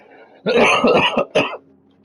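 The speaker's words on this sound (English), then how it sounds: "Pardon me for my coughing." A short burst of harsh, close coughs, three or four in quick succession, followed by quiet.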